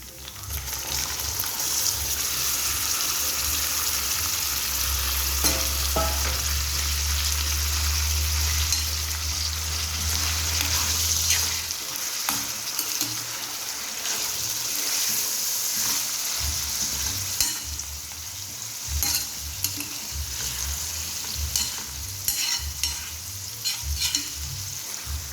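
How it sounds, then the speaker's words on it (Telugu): Washed chicken pieces fry with onions for a coconut and cashew chicken curry, making a continuous moderate sizzle with intermittent stirring and clatter. A brief watery gush comes near the start, and there is no talking. "ఇప్పుడు మనం ఈ ఉల్లిపాయల్లోకి నీట్గా వాష్ చేసుకొని పెట్టుకున్న చికెన్ అయితే వేసుకుందాం."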